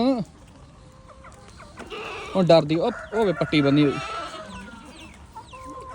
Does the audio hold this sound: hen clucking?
yes